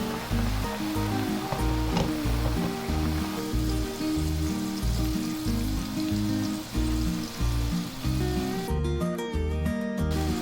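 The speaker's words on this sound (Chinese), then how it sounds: "中火慢炸，不能用力搅拌。" Potato strips deep-frying in oil over medium heat with the pan gently shaken, giving a continuous close bubbling sizzle with a rhythmic pulsing texture throughout.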